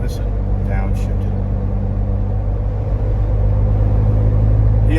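A 2021–2022 Ford Bronco with an aftermarket catback exhaust gives a loud, continuous, deep rumble recorded close up, holding steady through a downshift without clear revving peaks.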